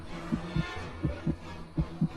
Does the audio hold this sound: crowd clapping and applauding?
no